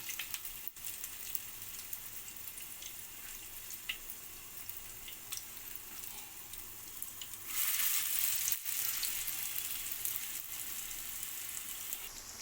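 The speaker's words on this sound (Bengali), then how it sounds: "গ্যাসের আঁচটা কমিয়ে একদম ভালো করে আমাকে এটা ভাজতে হবে" Galouti kebab frying in a pan over a low gas flame, giving a steady faint sizzle that swells louder near the end, with no talk.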